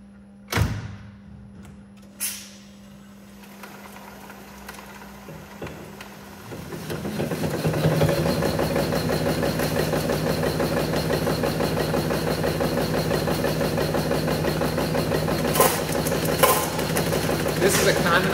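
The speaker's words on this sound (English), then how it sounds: "Now I'm going to run three different sizes at a quick succession to show just how versatile the machine is." A Taisei Lamick pouch packaging machine starts with a couple of clunks, then settles into a loud continuous mechanical whir and rhythmic cycling, with occasional clacks.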